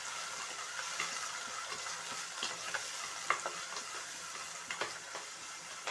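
Onion and tomato sizzle in an oil-filled pan while being stirred for a garlic-pepper fish curry, a steady frying hiss broken by light scraping taps of the spoon, with no talking.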